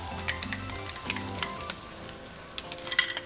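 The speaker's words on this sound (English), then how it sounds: "we're going to add our minced garlic." Minced garlic sizzles with bell pepper and onion in butter for a creamy Cajun shrimp pasta, a steady close frying hiss with a few light spoon scrapes and clinks against the pan.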